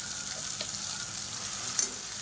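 Ground mint paste fries in hot oil with mustard seeds and asafoetida, giving a faint, steady sizzle with a brief clatter partway through.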